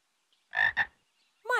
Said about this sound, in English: That's a big frog, Justin